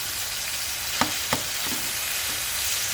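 Chicken pieces sizzle in a frying pan, a steady hiss with a few sharp clicks and knocks as they are flipped over, close and fairly loud with no talking.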